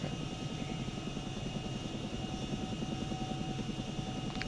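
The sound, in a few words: Chinook helicopter hover taxiing in video game ArmA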